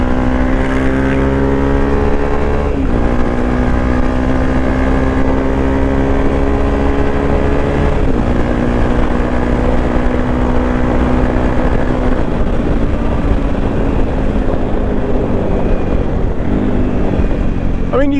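A Honda CRF 250 Rally motorcycle pulls away and keeps riding, its engine loud and close with a steady drone, rising through each gear and dipping briefly at every shift.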